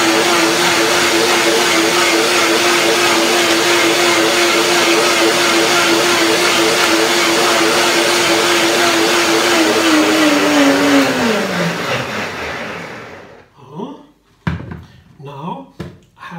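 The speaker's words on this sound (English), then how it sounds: "I will blend a little bit more before I put now the tangerines in and the persimmon." A blender whirs loudly as it purees hazelnuts into a cream, holding a steady whine for about eleven seconds. It then winds down and stops, followed by a few light clunks and handling noises.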